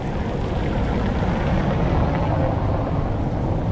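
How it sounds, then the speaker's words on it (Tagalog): A tram on a city street pulls in with a steady broadband rumble and roar that stays loud and even throughout, wheels and motor noise filling the scene with no pauses. "Yan, parating na tren."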